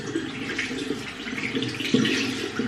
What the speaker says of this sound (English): Maybe I should let the tap run for a little because I need the warm water.